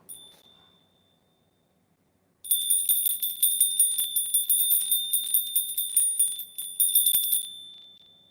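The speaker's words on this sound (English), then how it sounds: "This is the bell of happiness." A small bell rings, first one faint strike that fades into quiet, then a rapid run of bright, ringing strikes for several seconds before it stops, loud and close with no speech.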